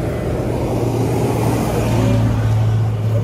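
Trucks rumbling past on a road nearby, a steady low engine drone with a slight rise in the second half, continuous and fairly loud with no talk.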